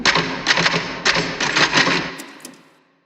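A typewriter clatters in The Shining film: rapid bursts of sharp, close keystrokes that stop and fade out near the end.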